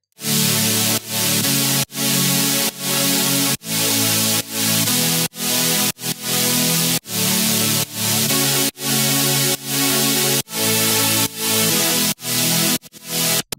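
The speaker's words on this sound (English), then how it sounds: "for the second layer, we have this OTT supersaw" Bright, wide supersaw synth chords processed with OTT compression, pulsing in short rhythmic bursts with brief gaps between, loud and dense, no voices.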